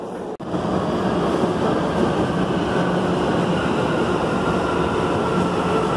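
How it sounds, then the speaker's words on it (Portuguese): A Salvador metro train arrives at the opposite platform, rumbling steadily nearby with a continuous roar of wheels and motors, filling the station without any voices. "O metrô tá chegando do outro lado."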